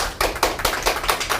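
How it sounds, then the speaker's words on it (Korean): A seated audience at a university entrance information session claps in brief, sharp bursts, the separate claps close together and distinct, sounding like a small group rather than a large crowd. "크게 박수로 맞아주시기 바랍니다"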